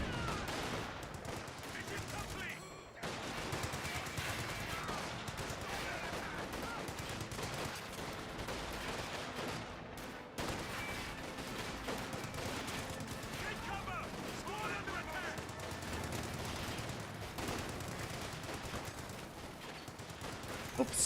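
M1919 machine guns rattling across a Company of Heroes 2 battlefield, continuous overlapping bursts of automatic fire and distant explosions that rarely let up, mixed with faint game ambience.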